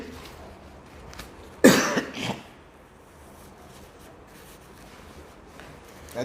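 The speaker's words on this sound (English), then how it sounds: "I think we are all having cough." A short burst of coughing during a Sunday Q&A session, one loud harsh cough followed by a smaller second one, standing out against quiet room noise with no talk.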